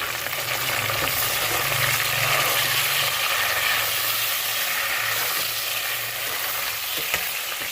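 Chopped tomatoes go into a pan of browned onions for a Pakistani aloo matar chicken curry, giving a loud, continuous sizzle and hiss of frying that eases slightly toward the end, close and steady with no talk.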